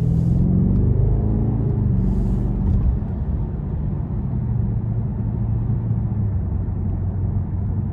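A 2018 BMW M550i xDrive V8 rumbles as it accelerates, a steady low engine drone heard from inside the car, strong at first and then settling into a sustained roar.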